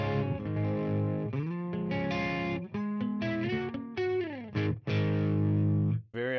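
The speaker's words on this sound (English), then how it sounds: "Iconic plexi sounding clean tones." An electric guitar plays clean-toned chords and short riffs through a Metropoulos Super-Plex amplifier, with ringing notes broken by brief pauses and choked stops, close and alone.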